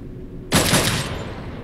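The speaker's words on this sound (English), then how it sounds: "The sound effect of that gun." A gun fires in Devil May Cry Mobile, one sudden loud bright blast after a quiet moment, decaying over about half a second.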